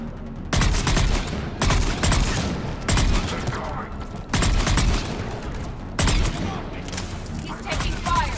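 Repeated loud bursts of automatic gunfire in the video game Mass Effect 3 Legendary Edition, arriving in regular volleys about every second or so with short gaps between, close and forceful, with shouted voices mixed in.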